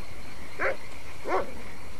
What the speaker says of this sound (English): You'd all bet that dog's got himself a raccoon.